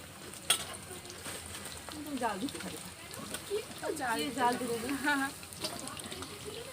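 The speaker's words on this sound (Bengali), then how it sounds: "গরম গরম পকোড়া হচ্ছে" Oil sizzles steadily as pakoras fry over a wood-fired stove, a soft crackling hiss running under a voice talking nearby.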